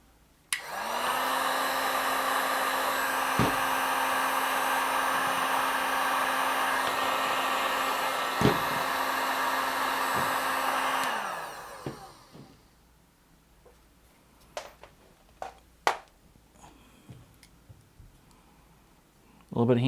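A heat tool hums steadily for about ten seconds while warming a drooping part of a model, a loud even whir with a few small clicks, then cuts off into quiet handling taps and knocks.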